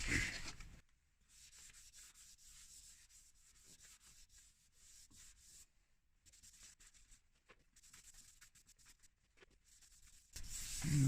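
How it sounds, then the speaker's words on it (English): Steady soft rubbing and wiping strokes as a first coat of sanding sealer is applied to a turned wooden bowl, continuous and close, with brief louder bursts at the start and end. "now I'm going to apply first coat of sanding sealer"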